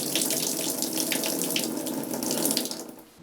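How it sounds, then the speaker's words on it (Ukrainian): A basement water tap runs steadily, a loud continuous gushing splash of water into a sink that eases slightly near the end, with no voices. "навіть через 44 роки крани водопостачання у підвал працюють"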